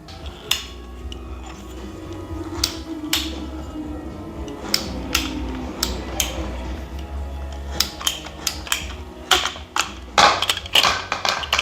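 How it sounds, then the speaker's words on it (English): A pipe cutter working through pipe outdoors in a field, giving irregular sharp clicks and metallic snaps over a steady low hum, with the bursts growing denser toward the end. "You can just cut a pipe as needed."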